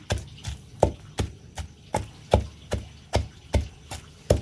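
Gongura leaves and onions are pounded for chutney in a stone mortar, giving a steady series of about a dozen dull, thudding strikes at an even rhythm, close and moderately loud with no talk.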